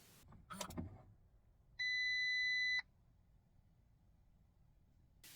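An Audi Q4 e-tron Sportback's faulty warning beep sounds once for about a second, steady, clear and sharp against a quiet background, after a brief rustle.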